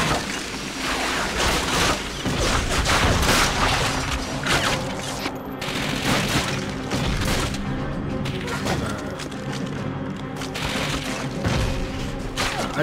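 Dense battle gunfire and explosions in Call of Duty: Finest Hour during the World War II battle for Stalingrad, a continuous barrage of overlapping shots and booms that stays loud throughout.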